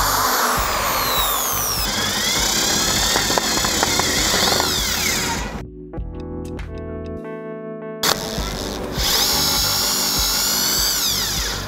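A Buildskill Pro electric drill runs loud and close, its whine steady for several seconds, cutting out briefly and then revving back up at full speed.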